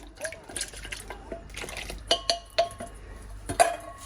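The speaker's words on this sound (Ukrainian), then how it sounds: "залишки води заливаю і гарненько вимиваю мисочку" Leftover water swirls around a bowl to rinse it while ciabatta dough is being made, with sloshing and sharp clinks of a spoon against the bowl, close by and in irregular bursts.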